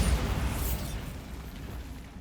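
Bombardo explosion spell in Hogwarts Legacy: a loud, close boom that hits at once and then decays into a long, rumbling tail, heard alone without talk.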